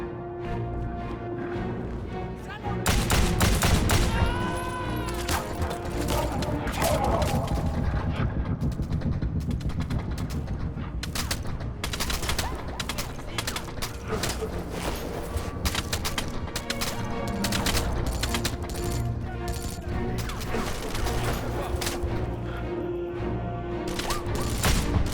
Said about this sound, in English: I'm shooting bullets right at the guy's fucking face.